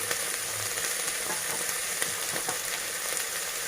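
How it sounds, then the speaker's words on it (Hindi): Potatoes and green beans fry lightly in a pan for a Sindhi curry, giving a steady, close, even sizzle with a few faint crackles and no talk. "ये हल्का हल्का फ्राई हो रहा है।"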